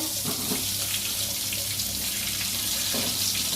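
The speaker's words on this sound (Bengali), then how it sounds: "এই যে পটল এখন আবার ভাজতেছি" Pointed gourd (potol) frying in oil in a pan, a steady close broadband hiss and sizzle that runs without break under no talk.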